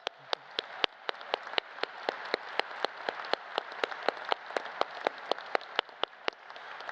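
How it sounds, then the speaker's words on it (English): Crowd applause fills a university commencement ceremony, a dense steady wash of clapping with sharp individual claps standing out, sustained without pause and with no talk over it. "Let's give a big round of applause."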